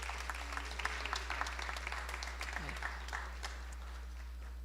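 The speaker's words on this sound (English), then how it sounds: "Can I have a round of applause for all our sponsors?" Scattered, moderately faint clapping from a fundraiser crowd at a seniors' charity event, thanking sponsors, with individual claps audible over a steady low hum.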